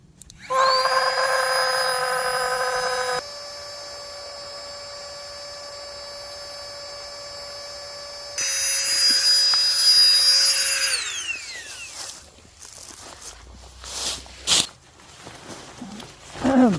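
A motorized pump inflating a camping bedroll mattress gives a steady, loud electric whine close by. The pitch shifts when it cuts back, then rises again before winding down and stopping, followed by rustling and handling noises.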